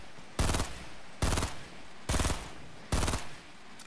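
Four loud, evenly spaced bursts of rapid gunfire in Fortnite Battle Royale during a 50vs50 match, each lasting about a third of a second, with short gaps of quiet between them.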